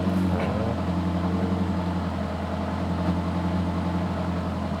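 A Subaru STI exhaust with an STI muffler idles steadily close by, giving a deep, thick but restrained low rumble with a constant hum that holds unchanged throughout, no voices over it.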